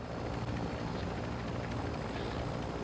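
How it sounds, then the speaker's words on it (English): A helicopter in Call of Duty gives off a steady, broad rotor and engine roar that stays loud and constant and is heard on its own. "One chopper, I give you a chopper."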